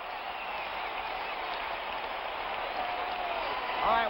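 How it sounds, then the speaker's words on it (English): A 1975 football stadium crowd between the Redskins and Cowboys roars in a steady, distant wash of cheering and applause, heard as broadcast sound with no talk over it. "listen to this crowd"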